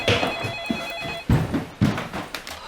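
A telephone rings in an indoor drama scene, an electronic trilling bell pulsing for about a second and a half before stopping, followed by a couple of dull thumps and faint shuffling.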